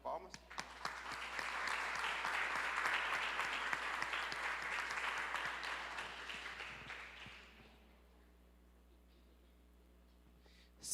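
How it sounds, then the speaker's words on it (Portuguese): A church congregation claps together in a loud, dense burst of applause that holds for about seven seconds, then fades out quickly, leaving a quiet room with only faint murmurs. "Uma salva de palmas."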